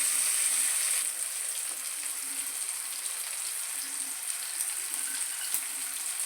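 A tomato sautés in a pan with a soft, steady sizzle and faint crackle, louder at first and then settling into a gentle, even hiss with a few small clicks.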